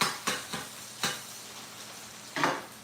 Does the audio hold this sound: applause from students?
no